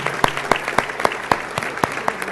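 Scattered clapping from a small audience at a federation gala award presentation, a few sharp claps standing out over a steady patter, moderately loud and continuous.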